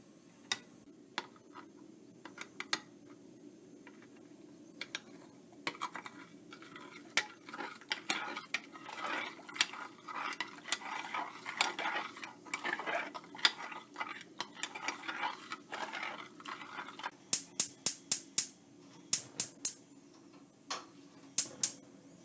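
A spoon taps and scrapes against a pot while stirring two bouillon cubes into boiling water, steady soft clinks throughout, ending in a run of sharper, evenly spaced taps.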